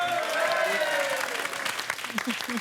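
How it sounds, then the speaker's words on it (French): Studio audience applauding a couple celebrating thirty years of marriage on a French television show, a sustained round of clapping with a voice briefly audible under it. "applaudissements pour Chantal et Alain"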